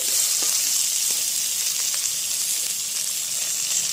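Dried chili and chopped onion sizzle steadily in hot oil, a continuous bright frying hiss with small pops scattered through it, close and fairly loud with no talking.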